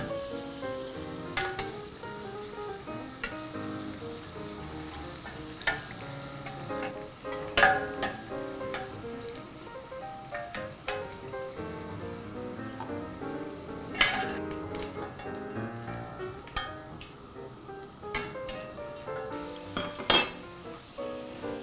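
Khichdi pakodas deep-frying in hot oil give a steady crackling sizzle with scattered sharp pops and bubbling bursts throughout, close by and with no talking.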